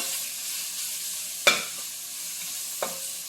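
Ginger garlic paste fries in hot oil with a steady, soft sizzle, broken by two sharp clinks of a spoon against the pan, one loud and one fainter, in a quiet kitchen.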